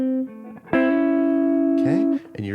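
A descending diminished chord run on guitar, high to low, with sustained ringing chords struck in a few separate bursts, close and clear.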